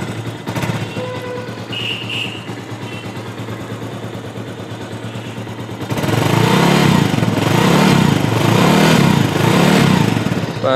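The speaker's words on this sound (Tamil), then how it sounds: "சைலன்சஸ் பீட்டை கேளுங்க" A Bajaj Avenger 220 Cruise motorcycle idles with a rough, pulsing exhaust beat that grows louder midway, thumping in a steady rhythmic pattern close by.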